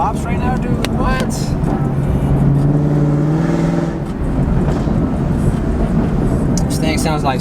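A 2017 Camaro 2SS V8 engine revving hard under acceleration, a loud, steady roar that holds throughout, with brief raspy swells and a short dip partway through, all heard from inside the car.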